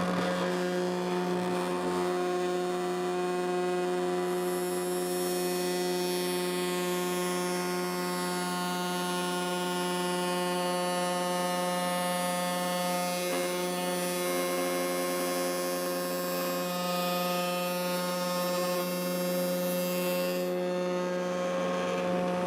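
A workshop vacuum runs with a loud, steady electric whine and hum while a tenon is cut, a continuous tonal drone that barely changes throughout.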